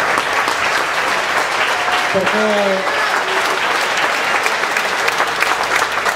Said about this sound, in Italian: vorrei fare un applauso a tutto lo staff di cucina